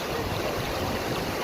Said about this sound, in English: nice little swimming hole with 2 waterfalls